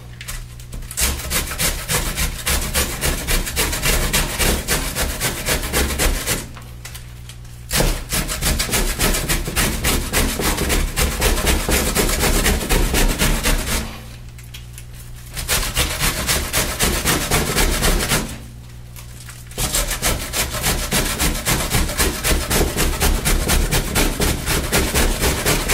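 Cabbage rubbed by hand across a grater over a bowl for coleslaw, a close, steady rasping scrape of quick repeated strokes, broken by three short pauses.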